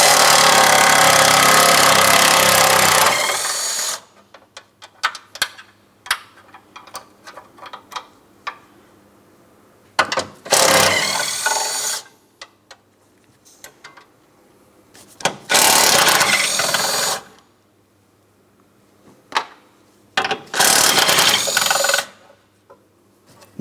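A wrench loosens 13mm mounting bolts from the front torque strut bracket on a 2004-2008 Pontiac Grand Prix, heard as several loud, close bursts of rapid ratcheting and metal rattling separated by quieter pauses.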